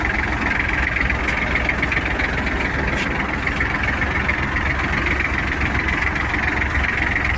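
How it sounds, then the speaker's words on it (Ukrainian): A Kubota GL-32 tractor engine runs steadily as it drives off, with a heavy, continuous low rumble and a constant mechanical whine, loud and close, with no break in the drone. "Просто вмикаємо передачу, трактор поїхав."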